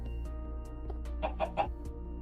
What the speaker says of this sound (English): Oh, also this update added chickens.